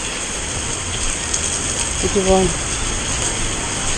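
Heavy rain pours in a steady, dense hiss throughout, with a short spoken exchange heard over it.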